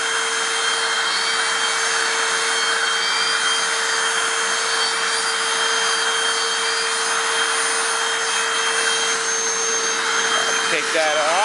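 A Hoover WindTunnel Anniversary Edition self-propelled upright vacuum, model U6485900, runs steadily and loudly throughout with a constant motor whine and airflow roar, close by, with no one speaking.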